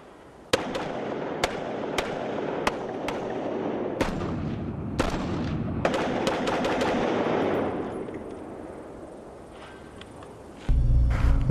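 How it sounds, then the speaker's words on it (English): Automatic weapon fire from a select-fire U.S. military rifle, loud sharp single shots and bursts in a sustained barrage, close and echoing, fading toward the end before a rumbling noise. "it has the ability to provide semi and full automatic fire"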